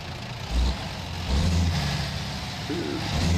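A vehicle engine idles in a video game played on a Logitech G923 wheel, a loud low rumble that swells in a few brief revs.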